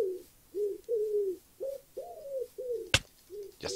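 A pigeon in Minecraft coos in a run of short, hollow notes, about seven in quick succession, close and clear, with a sharp click of game action cutting in near the end.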